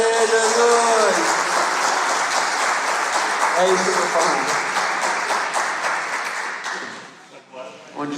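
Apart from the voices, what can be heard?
congregation applause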